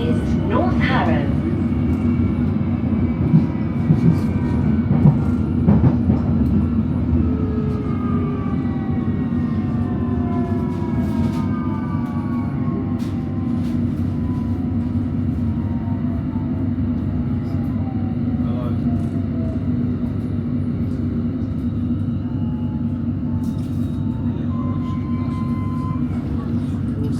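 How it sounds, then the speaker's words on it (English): A London Underground Metropolitan line train runs steadily between stations toward Watford, a constant low rumble with rail squeals and hiss, loud and close throughout the ride. "Metropolitan line train to Watford"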